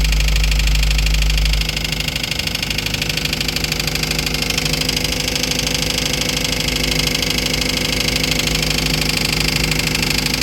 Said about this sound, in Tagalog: Bomba ng langis.